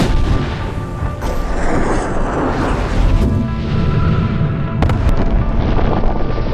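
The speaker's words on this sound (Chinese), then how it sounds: "从60万帧的高速相机下可以清晰看到，导爆锁围绕气罐爆炸的全过程" A 60 kg cluster of gas cylinders set off with a shaped explosive charge produces a loud, sustained roaring blast with sharp cracks near the end, close and dense throughout.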